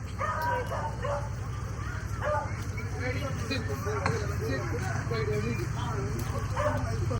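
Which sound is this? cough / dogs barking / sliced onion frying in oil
dogs barking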